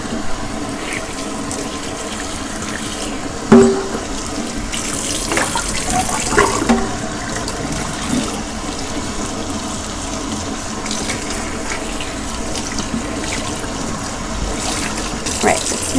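Tap water runs steadily into a sink as a doll scalp with freshly dyed violet hair is rinsed beneath it, a continuous close splashing flow with a few louder bumps and soft movements.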